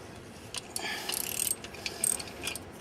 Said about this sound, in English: loosen up this center bolt